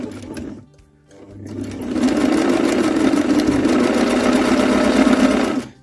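A sewing machine zigzag-stitches the lid lining of a 1950s suitcase. It gives a short burst of stitching, pauses briefly, then runs as a loud, continuous rapid clatter for about four seconds before stopping.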